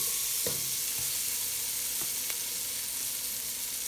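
Onions frying in a pan for a macaroni salad, a steady broadband sizzle throughout with a few soft stirring knocks, close and constant, no voices.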